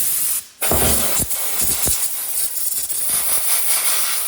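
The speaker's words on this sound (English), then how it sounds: "we're gonna rejuvenate them with a bunch of brake clean. Now give them a spritz." Brake cleaner sprays onto the pole shoe bolts of a 6.9 IDI diesel starter being rebuilt, with short bursts and a sustained aerosol hiss up close, loud and steady with a few brief breaks.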